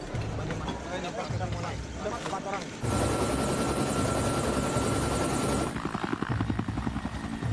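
Helicopter flying during a search for a crashed plane, its rotor and engine drone loud and steady, swelling stronger midway, with talk and music partly over it.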